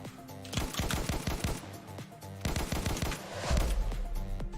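Rapid bursts of automatic gunfire and single shots crack out in the Testing Grounds video game, loud and dense, in two heavy volleys with a deep explosion rumbling underneath near the end.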